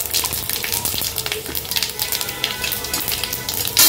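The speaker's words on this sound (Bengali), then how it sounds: "এই যে ফোড়ন দিলাম" Dried red chillies sizzling in hot oil for tempering in a wok, a dense crackling sizzle with spitting pops that holds steady and close.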